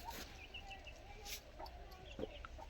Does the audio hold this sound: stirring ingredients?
no